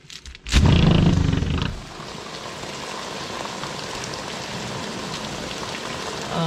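Thunderstorm rain falls on a morning in Droitwich, England. A sudden loud roaring burst gives way to a steady, close hiss of rain pattering on surfaces.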